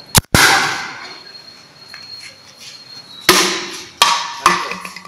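A small homemade ethanol rocket launches outdoors with sharp, loud bangs and a whooshing burst that fades, followed by further sudden cracks and rushes close to the microphone.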